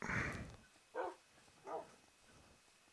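Dogs barking in Minecraft, a few spaced game barks of moderate loudness after a louder opening burst, with no talk over them.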